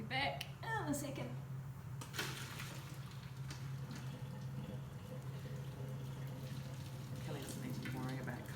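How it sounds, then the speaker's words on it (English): Cooked egg noodles tipped out of hot water into a bowl of cold water give a steady watery pour and slosh over a constant low kitchen hum, with faint voices near the start. "Noodles going from the hot water into the cold."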